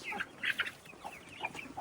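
Young laying hens, about five weeks old, cluck in a fenced pen: quick, close, repeated chirpy clucks in uneven bursts, with no other sound over them.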